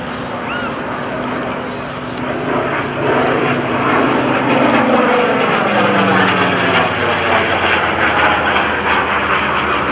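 A propeller warbird airplane engine drones overhead at an airshow, swelling louder as it passes with a shifting pitch, then settling into a steady roar.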